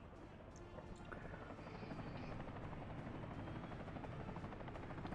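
A helicopter in the city-building game Workers & Resources: Soviet Republic keeps up a steady, faint rotor drone throughout, with no talk over it.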